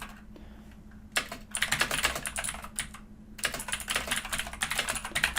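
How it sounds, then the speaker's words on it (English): Rapid typing on a computer keyboard, close and clear, with dense bursts of keystrokes broken by short pauses over a low steady hum. "I just typed in something"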